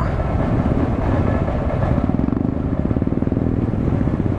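Motorcycle engines rumble and clatter continuously during a bikers rally on a city road, a dense, steady low drone with a pulsing throb growing toward the end and no talk.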